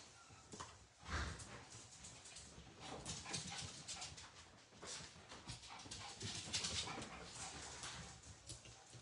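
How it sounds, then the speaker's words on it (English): A puppy whimpers and pants softly and continuously, faint and close, with uneven breathy bursts and no talking. "My puppy is got the zoomies now."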